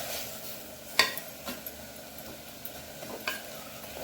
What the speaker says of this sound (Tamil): கொஞ்சம் வெங்காயம் தக்காளி நல்லா குழைவாக வதங்கட்டும்.